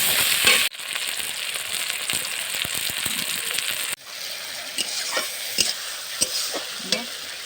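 Chopped tomato sautéed in a pan for a village-style fish curry: continuous bright sizzling with a utensil scraping and clicking, the frying dropping in level partway as stirring continues with scattered taps.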